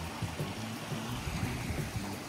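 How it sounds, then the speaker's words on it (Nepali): A small stream gives a soft, continuous trickling burble, close and quiet, with no voices. "यहाँ तल त सानो खोला"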